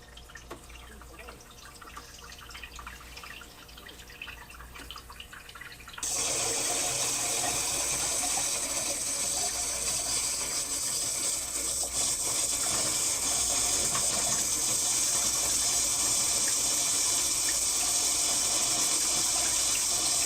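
Water rushes steadily into a reverse osmosis filter tank under a kitchen sink, starting suddenly after a quiet stretch of faint dripping and mechanical ticks, then a loud continuous hiss.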